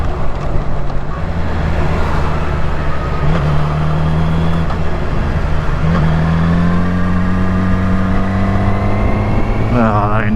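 Yamaha R6 sport motorcycle ridden on the road with its engine management light on, a steady loud engine drone with tones shifting through gear changes, plus a whistling blur of wind throughout.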